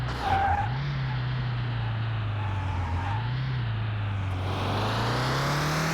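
A car accelerates hard on a test path, its engine note climbing steadily and loud and close with tire noise, easing briefly before rising again in a continuous run with no talking.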